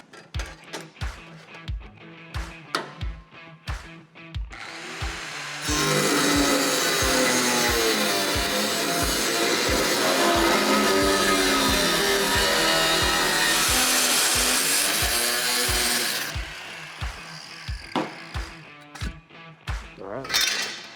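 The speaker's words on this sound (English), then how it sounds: "We'll use a cutoff wheel to cut this out since the shear's down right now." An abrasive cutoff wheel slicing through worn sheet metal from a 1972 Chevy C10 truck clamped to a table, a loud sustained grinding screech running for about ten seconds, bracketed by shorter clanks and taps before and after.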